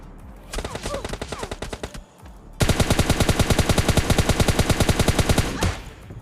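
Loud automatic gunfire in a shooter video game fight: a run of rapid shots, a brief pause, then a longer, denser sustained burst at close range.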